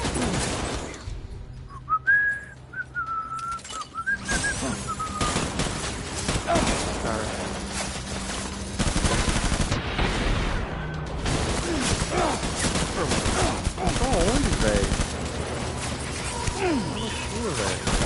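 Video game combat with sustained bursts of gunfire and mechanical clatter, loud and steady throughout, with a whistling tone early on and voices talking over the action.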